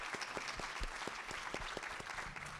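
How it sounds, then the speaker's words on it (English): A conference audience applauds a panel steadily, many hands clapping in a dense, sustained burst at moderate distance. "let's give a big round of applause for our panel today"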